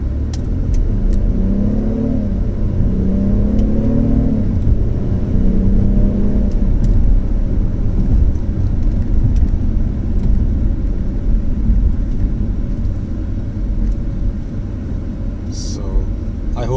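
A 2015 BMW 328i accelerates in sport mode, its engine rising through the revs in a strong steady drone heard from inside the cabin.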